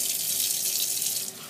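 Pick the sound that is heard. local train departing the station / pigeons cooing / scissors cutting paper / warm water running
warm water running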